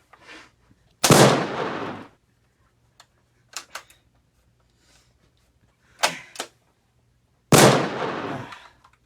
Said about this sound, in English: So we have Gino trying to fire 3 shots within 7 seconds.